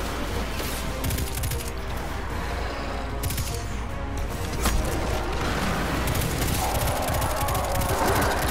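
Dense, continuous enemy gunfire in the video game Destiny 2, rapid bursts and shots layered over a busy battle din, loud and close throughout.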